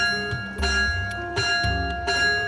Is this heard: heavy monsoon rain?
no